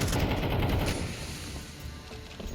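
An HE grenade blast in Counter-Strike, heard as a loud broad burst at the start that fades into a rumbling, hissing decay over a couple of seconds, with no voices over it.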